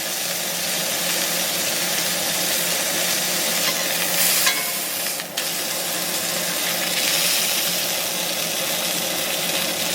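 Bacon sears in a cast iron pan with a loud, dense, continuous sizzle and crackle, close up, steady throughout apart from a brief stir or shift midway, and no voices.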